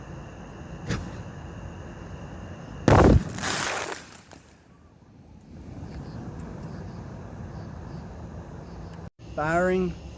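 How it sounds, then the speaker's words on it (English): A 5-inch grand jury firework shell fired upside down produces one sharp loud burst and hiss partway through, then a rumbling tail that fades. Quiet outdoor background surrounds it, and a voice briefly speaks near the end. "Firing 5-inch grand jury shell upside down."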